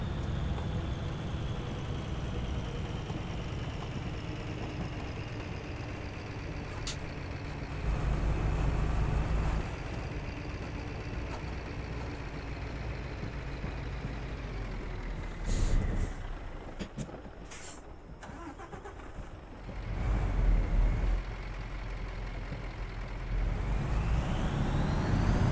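A heavy truck engine in Euro Truck Simulator 2 drones steadily throughout, rising and falling with revs, with a short hiss of air brakes partway through.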